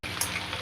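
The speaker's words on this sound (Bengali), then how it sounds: "তেল গরম হয়ে গেছে, এখন পটল আলুগুলো দিয়ে দেব" Pointed gourd and potato pieces frying in hot oil, giving a steady, close, loud sizzle that holds evenly throughout the short moment.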